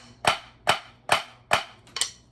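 Drum flam rudiments from notation software playback: five crisp, evenly spaced snare-like strikes, each one a tight flam, sounding dry and isolated with no talking.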